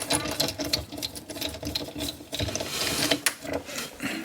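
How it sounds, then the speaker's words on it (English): A screwdriver backs screws out of the rear of a monorail-track drawer during a repair, producing a busy run of close, rapid mechanical clicks and scraping rattles, steady throughout. "Reach in, screwdriver, and take those out real quick."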